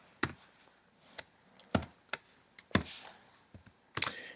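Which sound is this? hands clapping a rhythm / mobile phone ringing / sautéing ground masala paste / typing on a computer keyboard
typing on a computer keyboard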